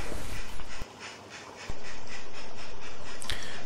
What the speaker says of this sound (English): And the bolster wagon is added to the train before it continues.